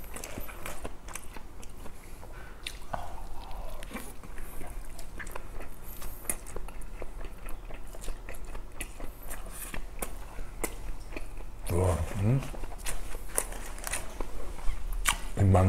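Steamed kimchi and meat king dumplings, store-bought, being chewed close to the mic with soft, wet biting and mastication running steadily throughout, a few crunchier bites near the end, no talking.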